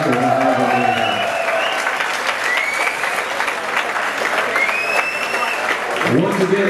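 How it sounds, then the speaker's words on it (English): Crowd applauding two Muay Thai fighters after a light middleweight title bout at a Vancouver kickboxing event, sustained loud clapping and cheering with whistles rising over it. "I want to give one more round of applause to these two amazing athletes"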